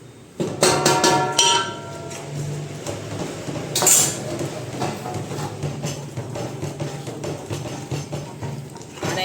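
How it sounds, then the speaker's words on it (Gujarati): Dhokli is stirred into a pot on a gas stove for Kathiyawadi dhokli nu shak: a burst of metallic clinks and scrapes, then steady utensil knocks and stirring clatter close by, with no talking. "ધીમે ધીમે હલાવશું ને ગેસને ધીમો કરી દઈશું"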